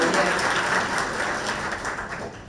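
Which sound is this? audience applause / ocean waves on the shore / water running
audience applause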